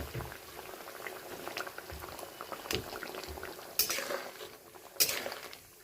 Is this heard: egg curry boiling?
yes